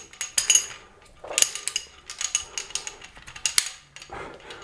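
Metal carabiners in a three-carabiner rope rescue 3:1 pulley system clink and rattle repeatedly as they are moved and repositioned, with sharp bright metallic chinks in irregular bursts at close range.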